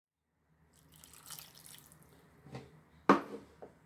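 Water splashes and trickles into a pressure cooker of white chickpea curry in short bursts, with a louder pour near the end and a few brief drips after.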